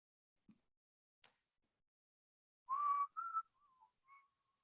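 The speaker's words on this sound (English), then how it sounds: "I'm just humming whistling the soap opera music." A few faint clicks, then a person whistles a short, wavering soap opera tune, notes rising and falling, alone in a quiet room.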